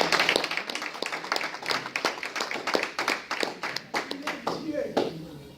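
A church congregation claps rhythmically and steadily during a wedding celebration, dense, quick hand claps continuing throughout, close and lively, with a voice speaking over the clapping.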